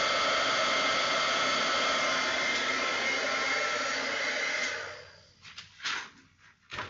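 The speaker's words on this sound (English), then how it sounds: "I'm embossing. Don't usually do this on camera because it is loud" Heat embossing tool melting embossing powder during card stamping: a loud, steady hair-dryer-like blowing roar for about five seconds, then it cuts off, leaving a few quieter bumps and brief noises.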